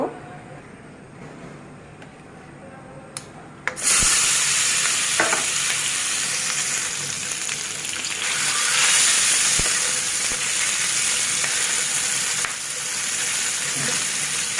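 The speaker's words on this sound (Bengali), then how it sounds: "এভাবে ডিমগুলো ভেজে নেব।" Eggs dropped into hot oil in a kadai, starting with quiet handling noises and then breaking into a loud, sustained crackling sizzle that swells and stays close until the end.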